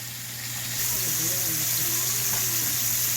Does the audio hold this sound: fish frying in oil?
yes